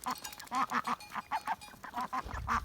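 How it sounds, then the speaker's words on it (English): Two ducks quack repeatedly while scuffling over a spot by a watering hole on a snowy morning, a close, busy run of loud overlapping quacks with short pauses between bursts. "the duckies are just having a little wrestle this morning. This is duck wrestling."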